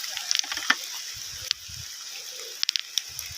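Rain falling after a hot spell near a waterfall, a steady light hiss with scattered sharp drips and taps close by, no talking.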